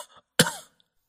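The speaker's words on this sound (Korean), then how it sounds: "신방에 딸린 골방 쪽에서 낮은 기침 소리가 들리지 않는가" A single low cough sounds from a small side room off a bridal chamber late at night, one short harsh burst after a faint breathy lead-in, then silence.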